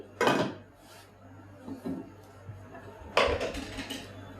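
A cooking pot of carrots, long beans and capsicum is covered with a lid in a home kitchen, giving two short knocking clatters, one early and one near the end, with soft handling noises between.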